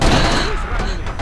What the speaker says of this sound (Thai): โดนปืนกลหนัก